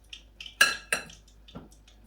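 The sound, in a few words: tossing shrimp around in a bowl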